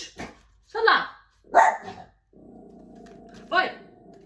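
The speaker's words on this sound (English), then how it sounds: "she barks at the people that are walking up the hill" A dog barks in a few sharp bursts, fairly close, followed by a low steady growl, then another bark.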